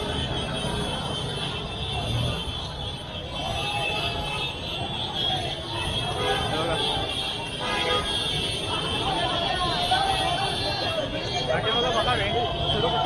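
Traffic rumbles through a crowded Lalbaug–Parel Ganesh arrival procession, with vehicle engines, horns and crowd babble blending into one constant din. A tonal alarm-like whine hangs above the noise and voices chatter throughout.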